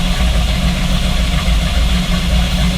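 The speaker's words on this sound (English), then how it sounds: "Alright, so the engine's all warmed up." Car engine idling steadily while warming up before an oil drain through the dipstick tube, a loud, close, even low rumble with no pauses.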